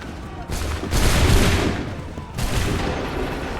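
Musket volleys ring out on an Assassin's Creed 3 battlefield as two heavy, rumbling bursts of massed gunfire roll over each other. Each broad crackling roar swells and then trails off, with no gap of quiet between them.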